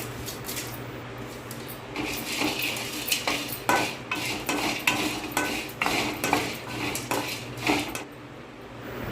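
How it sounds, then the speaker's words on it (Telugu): Cloves, cinnamon and cardamom are dry roasted in a metal pan, and a spatula scrapes and clinks in a quick repeated rhythm, loud and close, with no voices. "లవంగాలు దాల్చిన చెక్క యాలకులు ఇవి వేసి వేయించుకోవాలి"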